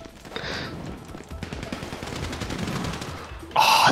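Rapid video-game gunfire from GTA Online on PC, a dense stream of shots running through most of the moment, with a louder, sharper burst near the end; no talking.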